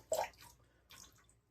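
Water drips and splashes off a thick, soaked shaving brush being readied for a bowl lather, in two short wet bursts, the first louder, with quiet pauses between.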